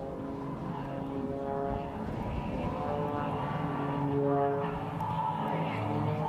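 Bill Stein's propeller airplane performs at the Hill Air Show 2024, and its engine drones steadily and fairly loudly with a shifting pitch as it maneuvers, under a faint distant crowd.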